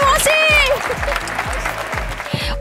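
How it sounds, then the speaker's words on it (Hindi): A studio audience on a Hindi TV game show applauds steadily and loudly, with musical stings, sweeping tones and repeated low thumps layered over the clapping throughout. "तुमको तालियां भी बज रही है भाई वहां से।"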